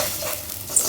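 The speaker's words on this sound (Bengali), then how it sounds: "চাল ভাজা শেষ, পানি দিয়ে দেবো।" Rice fries in a pot while being stirred, giving a soft, continuous sizzle with faint scraping, close and fairly quiet for under a second.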